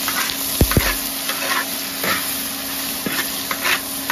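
Vegetables stir-fried over low heat in an iron wok crackle and sizzle up close, with sharp metallic spatula knocks near the start and a few later scrapes, no voices.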